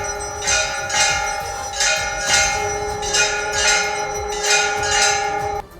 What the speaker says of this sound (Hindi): इस दौरान मंदिर की घंटियां लगातार बजती रहीं।